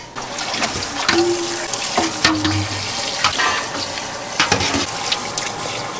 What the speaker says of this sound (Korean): 완전히 불 끄고 3분 또 한 3분 정도 놔놨다가 찬물에 씻으면 돼요